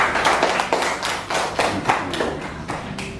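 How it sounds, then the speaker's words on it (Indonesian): A classroom of students claps for a classmate, a close and lively burst of hand claps that keeps going steadily throughout. "tepuk tangan untuk Amon"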